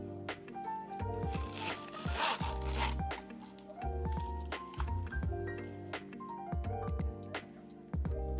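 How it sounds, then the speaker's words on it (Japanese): A gold YKK zipper on a brown-fabric pen case runs open and closed in several smooth, close rasping pulls with brief pauses between strokes, with no talking. "もちろんファスナーはどちらも YKK ですので動きも非常にスムーズです"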